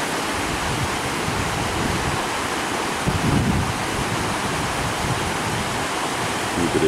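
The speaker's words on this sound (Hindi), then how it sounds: "दरिया आ रहा है ऊपर से।" A mountain river on the road between Chilas and Jaglot rushes past in a steady, loud, unbroken roar of churning water that fills the whole scene, with no voices over it.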